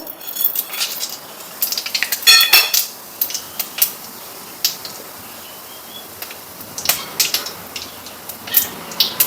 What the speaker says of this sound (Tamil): கடுகு சீரகம் உளுந்து சேர்த்துப்போம்